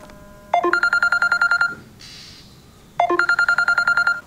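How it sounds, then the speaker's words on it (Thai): Two bursts of a mobile phone ringtone play, each a rapid run of bright beeping tones lasting about a second, separated by a short pause with faint background noise and no talk. "นี่มันเสียงโทรศัพท์น้องฟิวนี่"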